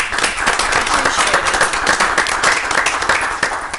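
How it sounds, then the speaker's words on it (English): An audience at a village board meeting gives one more round of applause, a brief, steady burst of close, dense clapping that holds evenly throughout. "Give you one more round of applause here."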